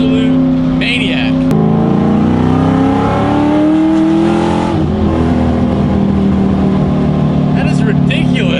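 A modified car engine roars at wide open throttle, loud and close, its pitch sweeping up through several rising revs before holding a harsh high drone, with excited voices talking over it.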